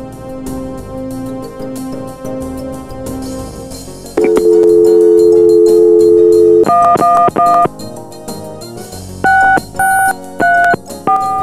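Desk phone being dialed in the Gabriel Knight video game: a low hum gives way to a steady dial tone, then a run of crisp beeping touch-tones in quick succession, loud and close with no voices.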